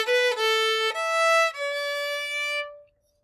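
A violin plays clean, bright sustained notes in the high register, stepping from a high E down to a D, which rings out and then fades into silence; no other sounds are heard.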